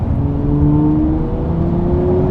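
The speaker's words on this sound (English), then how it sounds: "Just building up the revs." A Lamborghini Murcielago SV engine drones loud and close from inside the car, its pitch rising slowly and steadily as the revs build, with no voices over it.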